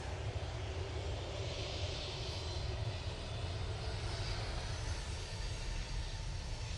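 Ryanair airliner departing Manchester Airport, a steady broad engine roar with deep rumble, heard at a distance and holding constant throughout with no voices.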